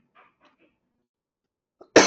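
A man gives a single sharp, close cough after near silence broken only by a few faint rustles.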